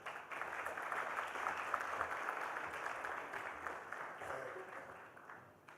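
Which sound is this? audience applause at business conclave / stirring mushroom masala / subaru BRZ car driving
audience applause at business conclave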